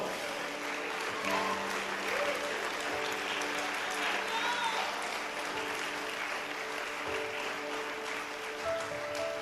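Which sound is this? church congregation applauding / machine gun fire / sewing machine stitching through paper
church congregation applauding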